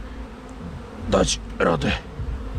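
A steady buzzing of honey bees at an opened hive hums in the background while a person speaks briefly over it.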